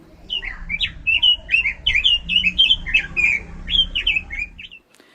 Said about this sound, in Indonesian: Kita melihat burung robin bagaimana dengan cerianya mereka berkicau dan bernyanyi.